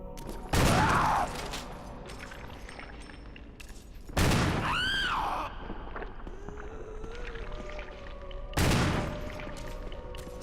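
Shotgun blasts in a Resident Evil game, three loud booming shots a few seconds apart, each followed by a short decaying tail and a creature's wavering cry amid quiet ambience.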